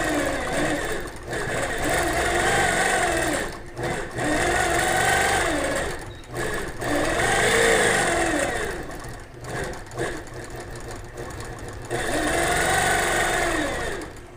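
A sewing machine stitching free-motion quilting on a small compositional quilt, running in long steady whirring bursts with short pauses between, close and fairly loud, with no talking.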